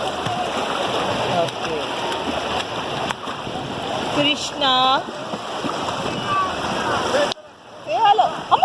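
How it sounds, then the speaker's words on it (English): Water rushes and splashes steadily at the Chaparai waterfalls in Araku, a continuous broadband roar with people talking and calling out over it nearby. "Waterfalls."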